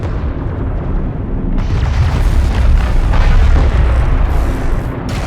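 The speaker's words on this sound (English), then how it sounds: "A turret is under fire." Explosions and heavy booms rumble continuously as a turret comes under fire in the real-time strategy game Homeworld: Deserts of Kharak, a loud, dense battle roar with bursts swelling midway.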